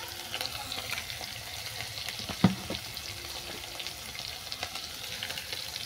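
Onion paste frying in a pan for a fish curry, a constant close sizzle and crackle with a single sharp clunk of a spoon or utensil midway, no talking.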